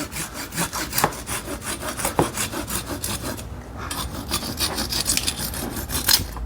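A bonsai branch is cut with a hand saw in fast steady back-and-forth strokes, loud and close, the rasping rhythm pausing briefly before resuming.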